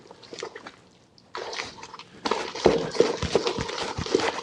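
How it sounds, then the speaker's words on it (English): Melted butter being stirred into pancake batter with a spatula, giving wet, squishy slaps and sloshing strokes that grow louder and more rhythmic toward the end, heard close up with no talking. "So butter in. And we just want to stir that in."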